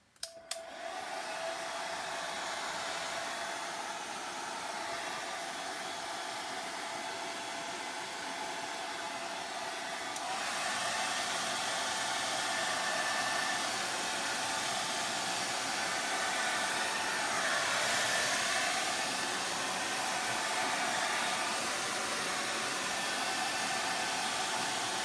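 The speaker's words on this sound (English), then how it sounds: "Now you can really manipulate the paint with your blow dryer, right?" A blow dryer runs steadily close by for the whole stretch, a loud continuous airy whoosh while drying paint on a handmade Christmas ornament, its pitch shifting slightly as it moves, with no talking.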